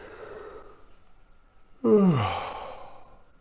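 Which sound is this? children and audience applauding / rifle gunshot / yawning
yawning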